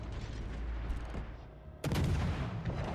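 Battleship main guns firing in World of Warships Legends, with a Fuso or Hyuga in the fight: a dense rumble of distant fire, then one loud, near booming salvo that rolls on to the end, with no talk.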